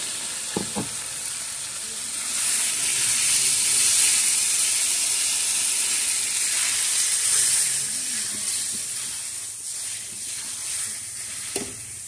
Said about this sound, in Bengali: ইলিশ মাছগুলো দিয়ে মশলার সাথে ভালো করে এপিট ওপিট করে নেড়ে নেব, নেড়ে কষিয়ে নেব।